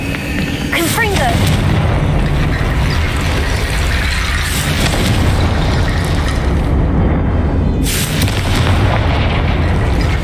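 A Confringo blast spell goes off in Hogwarts Legacy as a loud, continuous booming explosion roar that fills the whole stretch, with brief sharper crackles, under dense game noise and a voice.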